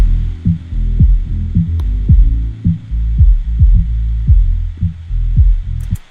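Soloed low end of an FL Studio track: a deep bass and kick pattern thumps in a steady rhythm, loud and alone, with repeated punchy low hits and sustained sub tones between them.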